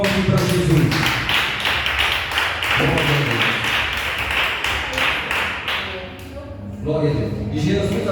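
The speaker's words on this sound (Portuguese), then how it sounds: "palmas bem forte para Jesus" Church congregation claps loudly and rhythmically at a Portuguese-language service, steady hand claps over sung or spoken voices and music, briefly dipping before resuming.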